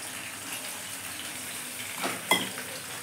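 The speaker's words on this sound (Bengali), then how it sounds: "এখন আমি কড়াইতে ওই কাজু বাদামের তেলেই পনিরগুলো ভেজে নিচ্ছি।" Paneer cubes frying in cashew oil in a wok, a soft, steady sizzle at moderate distance, with a couple of brief stirring scrapes and louder crackles near the end.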